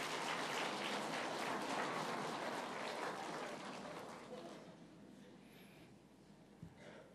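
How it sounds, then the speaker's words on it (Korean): Church congregation applauding, a dense burst of clapping that gradually thins and fades over several seconds, fairly quiet overall. "박수 짝짝짝짝."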